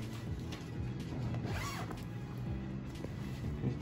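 A zipper on the cushion of a Thuma bed headboard is pulled open in several quick, quiet rasping strokes at close range, with no talking.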